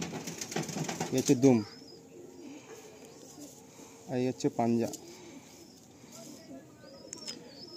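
Madrasi pigeons in a loft, with low cooing and brief bursts of wing flapping heard close by between stretches of someone talking as he handles the birds.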